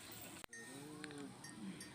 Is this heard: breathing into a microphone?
no